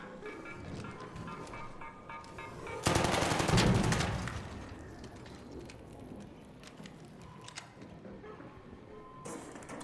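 Rapid automatic gunfire in the video game Arc Raiders, a loud sustained burst in the middle followed by scattered clicks and game sounds, with no talk.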